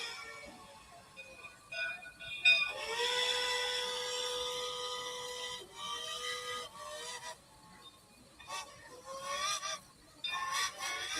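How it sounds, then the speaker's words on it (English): A steam locomotive whistle in Minecraft's Immersive Railroading blows in several long, shrill, layered blasts with short pauses between them, fairly distant and echoing. "That is a very nice sounding whistle. Like a really nice sounding whistle."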